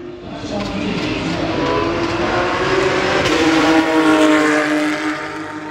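Porsche Super Cup race cars in practice at the Spa circuit roar past, a loud engine note that builds and sweeps through with rising and falling pitch, heard from trackside and not masked by any voice.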